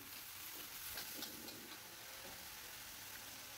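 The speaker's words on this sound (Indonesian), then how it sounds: "Setelah itu baru masukkan tempe yang sudah kita goreng di awal tadi." Fried tempe tossed back into a hot pan gives a steady, close sizzling hiss with faint stirring clicks.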